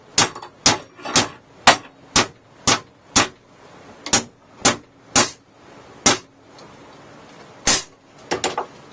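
A 2-pound hammer strikes a metal support clamped in a vise, giving about fourteen sharp, ringing metallic clangs in an uneven rhythm, some strikes coming in quick pairs, with quiet gaps between blows.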